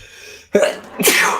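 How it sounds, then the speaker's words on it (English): A single close sneeze, a short sharp intake followed by a loud explosive burst, with no other voices. "Oh man, I have to sneeze."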